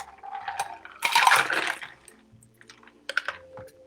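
Liquid is poured from a bottle into a goblet as a tiki cocktail is served, a short splashing gurgle that swells and then tapers, followed by light glassy clinks and small handling knocks at close range.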